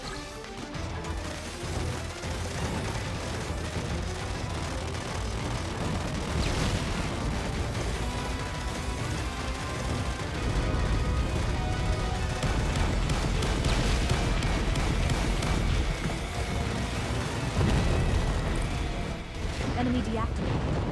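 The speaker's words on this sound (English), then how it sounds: "Enemy deactivated. Watch out for explosions." Explosions and crashes from the shoot-'em-up Raiden V: Director's Cut form a dense, loud, continuous barrage of booms over game music, swelling in the second half with no clear gaps.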